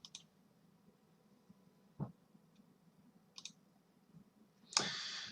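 A computer mouse clicks a few times, sparse and faint, sharp isolated clicks in a quiet room, ending with a brief louder rustle.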